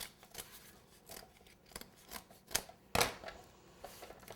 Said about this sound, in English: Use your scissors and cut the cake board so it's the same size as the cake at the bottom.